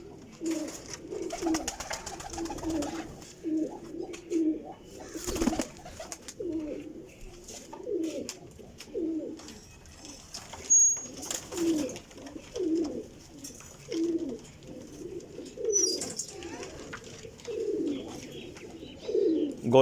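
Flying pigeons housed together in Jhelum give steady rounds of throaty cooing, one rolling coo after another in a loose rhythm, moderately close, with occasional chirps and rustles between calls.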